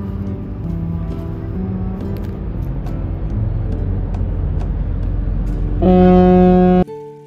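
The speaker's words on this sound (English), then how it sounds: "heard the whistle of the ship" A ship's deep whistle sounds once, loud and sustained for about a second, over steady low engine and harbour rumble on Tokyo Bay, then cuts off abruptly.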